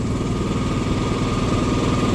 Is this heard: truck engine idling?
yes